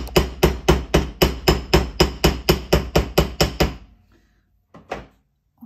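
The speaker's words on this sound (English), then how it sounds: "Let me hammer on my block." About fourteen sharp metallic hammer strikes on a metal jewelry pendant resting on a bench block, in a quick, even rhythm, close by, then silence broken by two faint taps.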